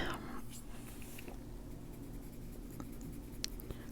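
Soft, steady scratching of a colored pencil on paper, close and quiet, with short strokes and faint taps against a low background hum.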